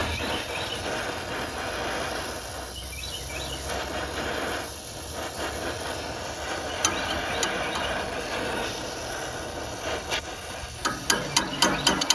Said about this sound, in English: one thing I like to do when I'm doing a compressor is I like to get the bolts out first